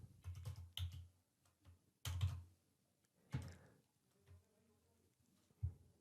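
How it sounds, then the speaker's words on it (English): Someone types on a computer keyboard in short, irregular bursts of close, soft key clicks and thumps, separated by brief pauses, in a quiet room. "here I am typing"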